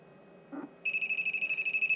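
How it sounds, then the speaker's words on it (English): A Vichy VC8145 bench multimeter's timer alarm sounds a rapid, steady series of loud electronic beeps, about a dozen evenly spaced pulses, after a brief soft click in an otherwise quiet room. "it starts beeping"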